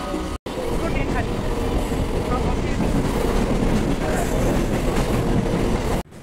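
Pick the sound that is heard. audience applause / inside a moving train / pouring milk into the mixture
inside a moving train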